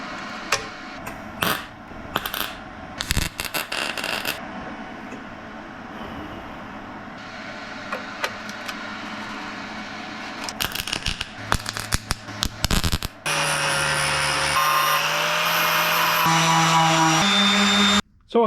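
A flux-core wire welder crackles and sputters in bursts while welding a stamped steel piece, close and loud, with irregular stop-start runs of spitting arc noise and a longer sustained, buzzing weld near the end.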